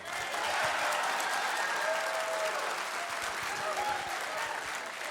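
Comedy show crowd applauding, a sustained wash of clapping from a large audience in a performance hall, steady and full for about five seconds before easing slightly.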